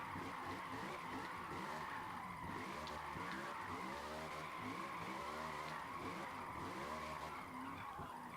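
Ford Mustang RTR drifting in the Forza Motorsport racing game, a loud continuous tire squeal and skid over a revving engine that holds steady throughout.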